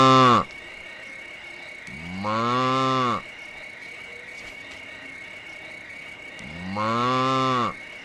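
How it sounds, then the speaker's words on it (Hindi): A bull bellows three times in a farm shelter, long loud harmonic calls with gaps between them, each lasting about a second, against a quiet background hum of insects. "करुणा सांड इसलिए आवाज दे रहा है"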